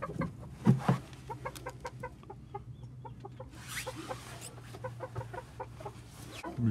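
Silver Brakel hens cluck repeatedly inside a chicken coop during egg collection, a rooster-like call and other fowl noises mixed in over a steady low hum, fairly close and moderately loud throughout.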